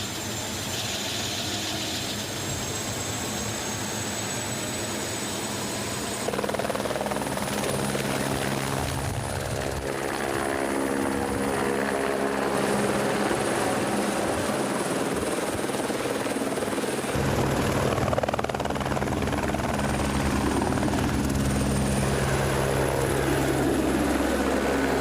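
A cargo helicopter drones steadily and loudly throughout over a forest, its rotor chop and engine whine constant, with a slight surge partway through.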